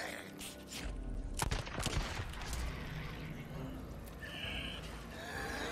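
Gunfire in the open-world survival game Days Gone, a loud burst of shots with sharp broadband cracks clustered early and then a lingering noisy rumble, with voices talking over it.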